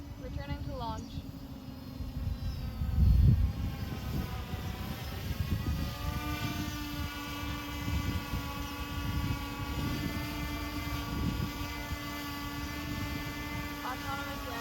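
A search and rescue drone flies autonomously back to its launch point. Its steady whining motor hum holds throughout under an automated synthetic voice giving flight announcements.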